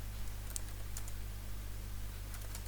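A shell command is typed on a computer keyboard in a few scattered, faint key clicks over a low steady hum, with sparse taps near the start and end.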